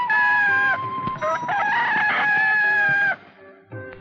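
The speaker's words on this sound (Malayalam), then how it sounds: "അയ്യോ, കോഴി കൂവി." A rooster crows loudly and close by, a long rising and falling call lasting about three seconds, followed by a short trailing note.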